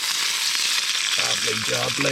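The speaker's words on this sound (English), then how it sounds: "got some sausages just sizzling away in the pan there" Sausages sizzle loudly and steadily in a frying pan at a lakeside carp-fishing camp, a dense crackling hiss throughout, with someone briefly speaking over it near the end.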